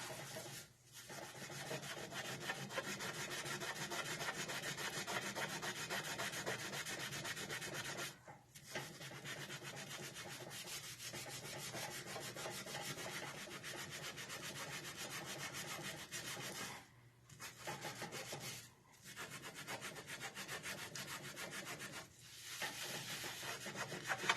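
A rag scrubs hard at stuck, burnt-on gunk in a close, steady rubbing rasp that continues for over twenty seconds, broken by a few brief pauses.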